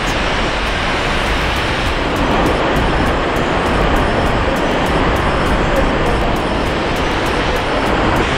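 Skógafoss waterfall in Iceland, glacier-fed, pours down in a constant, dense, loud roar heard from right beneath it, with no voices over it.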